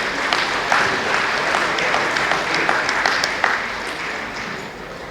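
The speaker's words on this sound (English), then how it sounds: "can we give His Excellency the Vice President a warm round of applause?" A dinner audience applauds the Vice President at a Commonwealth Parliamentary Association event hosted by the Nigerian president, warm sustained clapping from many hands that fades slightly at the end.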